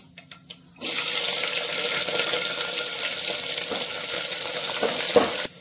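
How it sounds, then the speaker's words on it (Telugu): After a few soft clicks, a loud sizzle bursts out as chopped green chillies and ginger hit hot oil for tempering, frying steadily and crackling with occasional pops. "ఇప్పుడు మనం పోపులో వేసేద్దాం"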